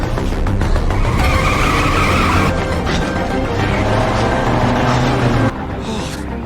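Police car tearing through a high-speed chase after robbers, tires skidding and squealing in a loud, sustained roar of engine and road noise that drops off near the end.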